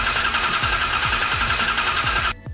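A Dodge Dakota R/T engine cranks over on the starter during a compression test, with a rapid, even chugging rhythm and a steady whine, loud and close, until it cuts off abruptly near the end.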